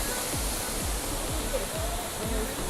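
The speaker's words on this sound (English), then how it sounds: "So that is the forest waterfall coming right up there, right up from there." Steady broadband rushing of a forest waterfall in Karura Forest, Nairobi, a continuous wash of falling water heard from nearby with faint low thumps underneath.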